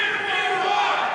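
A large crowd at a Donald Trump 'Patriot of the Year' event cheers and shouts continuously, a dense roar of many voices at steady loudness throughout.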